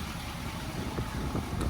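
A low, steady diesel engine rumble idles close by, a deep throaty exhaust drone from a 6.7 Power Stroke truck with a 5-inch tip, with no talking.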